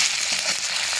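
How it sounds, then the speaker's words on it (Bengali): Ginger-garlic paste frying in a pan with onions and tomato gives a loud, dense sizzle with fine crackling that holds steady throughout. "এবার দেবো আদা রসুন বাটা, এটাকে দিয়ে ভালো করে আমি কষিয়ে নেব।"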